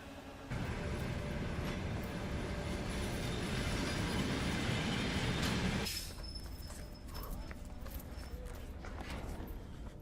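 A train on the BAM railway in Siberia rumbles in with a loud, steady roar and rattle that cuts off sharply, leaving a quieter idle hum with faint clanks.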